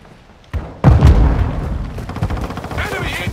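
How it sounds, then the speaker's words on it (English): Grenade blast in Call of Duty MW2 multiplayer, a sudden heavy close boom followed by rattling gunfire and a trailing rumble, with game voice callouts heard over the chaos. "Grenade out!"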